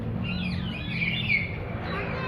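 Chirps and squawks of a bird that may be a lovebird sound at a moderate distance over a low background rumble, with no clear talking.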